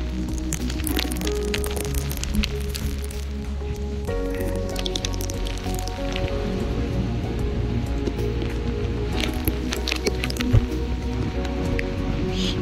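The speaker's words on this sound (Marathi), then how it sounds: "आम्ही काळी वॉटरफॉलला जाऊ शकत नाही, एवढा पाऊस चालू आहे" Heavy monsoon rain pours near Kalu waterfall in Malshej Ghat, a dense, steady hiss of water that stays even and fairly loud throughout with no talking.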